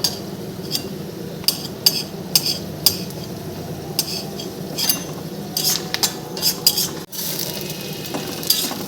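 Flattened rice and peanuts frying in a pan for a vegetable biryani, with a steady sizzle under repeated metal spoon scrapes and clinks against the pan.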